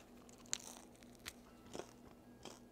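Crunchy bites into the crust of homemade French bread, a few separate crisp crackles and chewing sounds close up, spaced irregularly with no talking.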